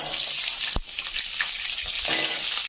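Onions frying in hot oil with spices for an egg gravy, a loud close sizzle with a couple of sharp stirring knocks against the pan, continuous and without any talk.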